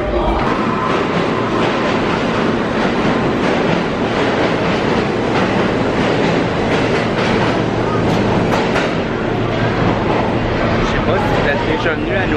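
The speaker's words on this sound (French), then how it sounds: "Fait qu'on a pris le métro." Riding a New York subway train, a loud constant rumble with rhythmic clickety-clack of the wheels on the rails, heard from inside a crowded car while people talk.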